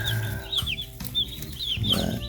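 Young chicks, a week old and a day old, cheep in a brooder with a steady overlapping chorus of high, rising peeps, close and continuous, alongside some lower clucking, with no talking.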